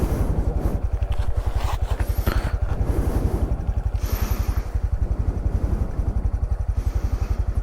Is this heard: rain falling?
no